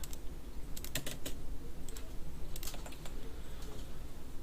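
Numbers and Enter keys typed on a computer keyboard while drafting a part in a CAD program, a quiet, close series of crisp key clicks in short irregular bursts.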